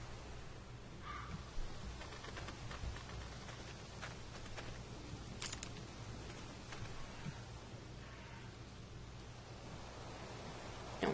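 A crow caws in The Walking Dead video game, a few scattered calls set against a soft, rain-like hiss of background ambience. No one speaks.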